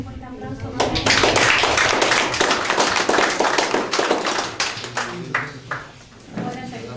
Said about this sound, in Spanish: Felicidades, jóvenes, un fuerte aplauso.